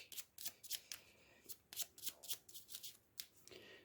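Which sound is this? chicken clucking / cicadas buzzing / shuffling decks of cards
shuffling decks of cards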